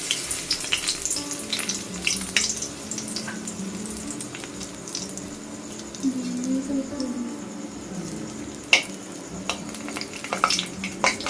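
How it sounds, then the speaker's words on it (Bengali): Whole dried red chilies crackling in hot white oil in a wok, with intermittent pops and spatters over a low, uneven sizzle, plus occasional clinks of utensils, close by and without talk. "এবার দিয়ে দিয়েছি গোটা শুকনো লঙ্কা,"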